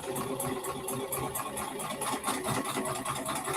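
A home sewing machine runs steadily at its longest stitch length, sewing gathering stitches for a Maeve top, a close continuous mechanical hum with a faint rhythmic pulse and no voices.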